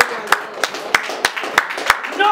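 A church congregation claps in a steady rhythm during a Christmas service. The claps land about three times per second, close and fairly loud, with voices talking over them.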